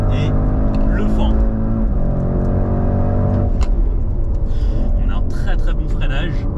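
A Porsche drives hard and accelerates with a loud, steady engine drone and shifting harmonics from inside the cabin, while someone talks over it.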